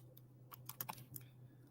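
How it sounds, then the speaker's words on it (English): Computer keyboard typing during a meetup programming demo, a handful of faint scattered key clicks over a low steady hum. "It's always fun typing in front of people."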